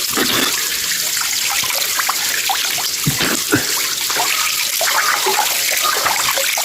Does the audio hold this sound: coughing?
no